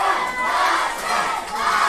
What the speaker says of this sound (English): I never thought I would hear the crowd here in Abbeville, Louisiana, chant for Ashton Spears